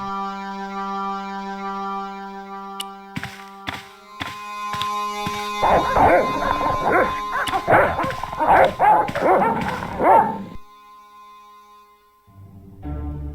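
Several dogs bark and yip in a Broken Sword video game, with a few sharp barks at first, then a dense, overlapping burst over a steady background tone before falling quiet.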